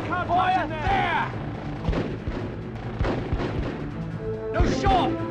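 Gunfire in the PS2 war game Full Spectrum Warrior, several sharp booming shots and bursts with echoing tails, mixed with shouting voices throughout.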